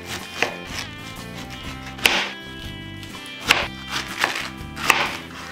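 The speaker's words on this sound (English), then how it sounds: "chop slices like this." Knife chopping slices on a board while preparing fish for pan fried cod, with four or five sharp, distinct chops at irregular intervals over a low background hum.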